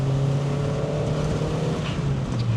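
A Ford Streetka's little 1.6 litre engine hums while driving, a steady close drone with a firm low tone that shifts slightly in pitch as the car moves along.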